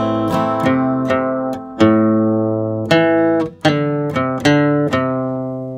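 Guitar plays measures eight and nine of a tune: about a dozen crisp picked notes mixing bass and melody, each ringing briefly before the next, at a moderate even pace with no voices.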